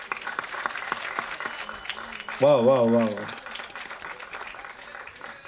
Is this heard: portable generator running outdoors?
no